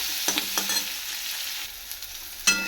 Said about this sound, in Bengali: পেঁয়াজ টমেটো ভালো করে ভাজা হয়ে গেছে